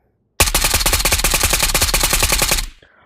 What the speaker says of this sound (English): AK Alpha, one of the most famous guns. Let's check out the recoil.